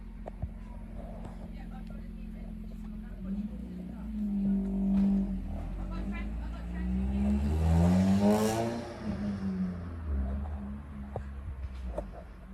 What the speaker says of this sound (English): Like all night you'll hear about 20 cars hotted up like that.